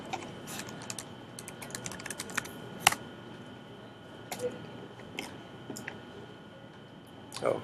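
Typing on a computer keyboard in a terminal, a quiet close run of uneven key clicks with a few sharper taps and brief pauses between bursts.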